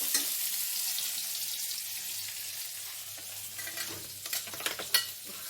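Ground spices such as coriander and turmeric sizzle in hot oil while being stirred for a crab curry, a steady frying hiss broken near the end by a few sharp scraping clinks of the utensil against the pan.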